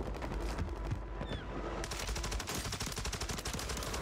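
An STB 556 assault rifle fires in Call of Duty on Rebirth Island: loud, rapid automatic bursts, with a short lull midway before a fast, steady stream of shots resumes.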